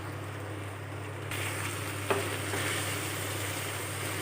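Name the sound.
stirring duck curry with potato in pot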